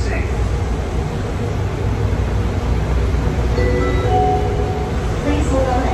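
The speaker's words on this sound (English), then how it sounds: "This train is stopping." Train coming to a stop, a loud steady low rumble of the carriage with hum and faint squeaky tones as it slows.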